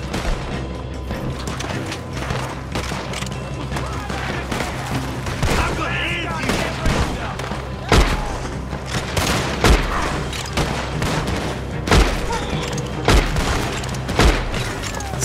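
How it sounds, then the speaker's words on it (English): Gunfire in the video game Red Dead Redemption 2: a steady volley of loud shots with sharp, heavy reports landing every second or two near the end, over a busy background. "Why are you shooting?"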